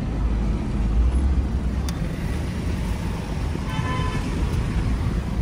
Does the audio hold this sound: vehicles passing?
yes